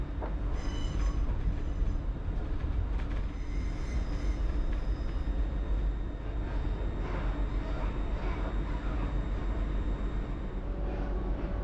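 A passenger train runs along the line near Dalmuir, Glasgow, with a steady loud rumble of wheels on rails and occasional high squeals, heard from on board and continuous throughout.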